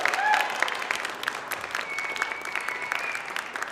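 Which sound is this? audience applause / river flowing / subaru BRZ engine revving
audience applause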